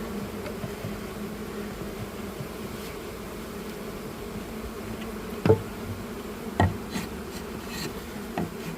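A package of honeybees hums in a steady, moderately close buzz during a hive installation, with a few faint knocks and taps over the drone.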